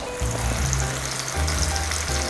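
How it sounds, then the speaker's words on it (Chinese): Ginger slices and Sichuan peppercorns sizzle in oil left from searing beef, a steady close hiss of frying that carries on without talk. "我们的姜片跟花椒炒香之后"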